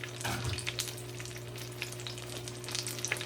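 Alcapurrias fry in hot oil with a steady, dense sizzle and occasional pops, close and continuous, under a low hum and without any talk.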